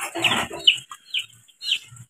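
A chicken clucks several times at close range, short sharp calls spaced irregularly with quiet gaps between them.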